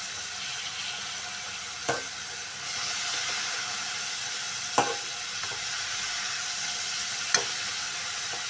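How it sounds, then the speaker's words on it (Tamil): Radish stir-frying in a pan for a radish and egg poriyal, with a steady loud sizzle and hiss and a few soft clicks of stirring. "முள்ளங்கி அதை எடுத்து சட்டிக்கு பேனுக்குள்ளே போட்டுக்கலாம்."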